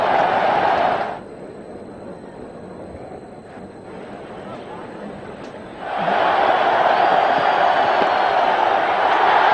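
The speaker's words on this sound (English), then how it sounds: "The crowd is delirious." Stadium crowd at a 2002 India vs West Indies one-day cricket chase roars for Sanjay Bangar's fifty, a loud sustained wash of cheering that dips briefly to a lower murmur before surging back up just as strongly.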